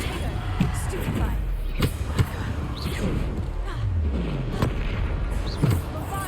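Repeated Bombarda blasting-spell explosions in the video game Hogwarts Legacy, several sharp booms and thuds scattered across a busy battle with a voice talking over them.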